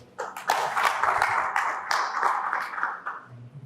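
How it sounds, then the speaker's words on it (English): An audience claps steadily for a few seconds, a dense patter of many hands that swells quickly and tapers off near the end. "Please give a round of applause for."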